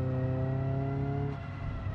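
A race car in BeamNG.drive on Hirochi Raceway holds a steady, close engine tone, then drops pitch abruptly as it downshifts, the note settling lower and rougher afterward.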